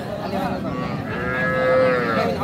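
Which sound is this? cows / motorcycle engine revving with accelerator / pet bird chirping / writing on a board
cows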